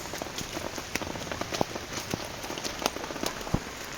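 Steady patter of rain falling on a surface, with scattered louder drops and taps over a constant wash of noise.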